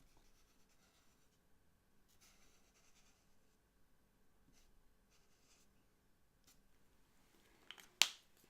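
A chisel nib marker scratches faintly across paper in short, quiet strokes, with a sharper tap or snap near the end.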